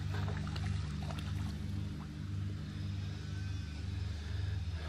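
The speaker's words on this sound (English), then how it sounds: "Right, lovely little stream." A small stream in the Lake District flows steadily near Troutbeck Head, its water burbling as a continuous close wash with no speech over it.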